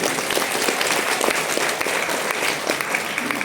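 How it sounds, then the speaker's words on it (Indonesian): Audience at a workshop clapping steadily and enthusiastically, a dense continuous wash of applause from many hands, close and loud throughout, with no talking. "Kalau setuju, kasih tepuk tangan yang meriah Bapak Ibu."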